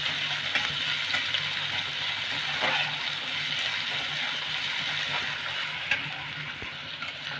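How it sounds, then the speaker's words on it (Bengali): Thinly sliced onion fries in oil in a pan, a steady close sizzle with a few faint taps and stirring sounds, and no talking. "পেঁয়াজটা দিলাম। এবার আমি এগুলোকে একটু ভেজে নেব।"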